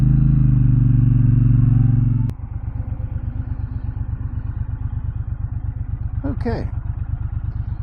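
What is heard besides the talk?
2024 Triumph Bonneville Speedmaster motorcycle riding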